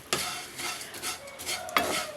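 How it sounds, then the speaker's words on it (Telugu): Flattened rice (atukulu), a thick variety, being stirred and roasted in a pan, with soft rustling scrapes and a few sharper clinks of the utensil against the pan, close and fairly steady. "వీటిని దోరగా వేయించుకుందాం."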